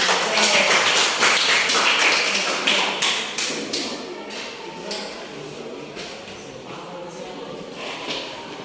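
A classroom group gives a round of applause: dense, loud clapping that starts at full strength and gradually thins and fades over several seconds.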